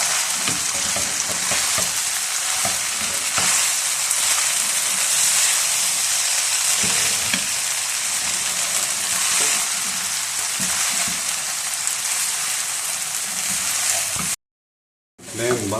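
Vegetables and chicken for spring-roll filling toss and stir in a hot pan, a loud continuous sizzle and hiss with scraping spatula movements, close by, ending in a brief cut to silence before the sound resumes.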